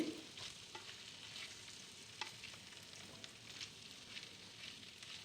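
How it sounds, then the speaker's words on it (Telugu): Mushrooms are stirred slowly in a pan to cook for a mushroom, pea and potato curry. The soft sizzle runs quietly underneath while a spatula makes light scraping ticks. "మష్రూమ్స్ అన్నిటినీ వేసేసి మెల్లగా కదుపుతూ కలిపేయాలండి"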